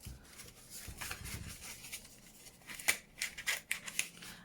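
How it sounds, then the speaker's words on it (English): Scissors snip through paper while making a junk journal, quiet close-up cuts with a few soft rustles early on and a quick run of sharp snips near the end. "If it keeps coming up, I'll just cut that bit off."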